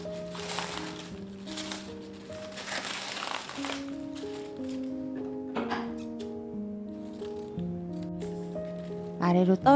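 Scissors snip ribbon while a single flower is wrapped, with a few crisp cuts and some paper crinkling over soft background music and a quiet voice.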